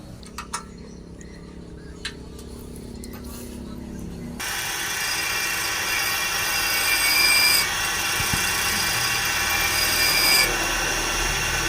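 A Revo Absolute motorcycle camshaft being ground down, with a few light scraping taps before a steady, louder abrasive grinding whir sets in and continues to the end.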